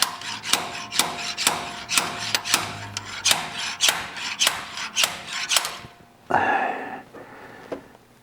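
A slide hammer strikes with sharp metallic knocks at a steady pace, about a dozen strikes, pulling a pilot bushing from a 1967 Chevrolet Corvette crankshaft, followed by a pause and a louder clunking scrape near the end.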